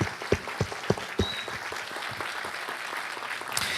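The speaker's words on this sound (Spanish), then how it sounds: "Dale un aplauso más fuerte al Señor." Church congregation claps in praise to the Lord during a Spanish-language service, a few loud distinct claps at first, then fading into a softer, dense patter of applause.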